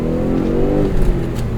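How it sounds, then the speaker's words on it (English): A cheap used Ford Probe GT engine revving, close and loud, a harmonic engine note that rises and holds with a slight shift midway, no speech. "engine sounds good"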